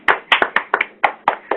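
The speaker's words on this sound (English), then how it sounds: "let's give both of these absolutely wonderful film producers a big round of applause" A small group claps for two film producers in a studio, about eight distinct, close, crisp hand claps in an uneven rhythm, rather sparse and brief.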